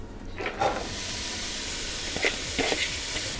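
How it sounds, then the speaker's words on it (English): Onions sauté in hot vegetable oil in a pot for butter chicken, giving a steady close sizzle and hiss with a few brief stirring scrapes. "we're just gonna saute the onions so they become translucent"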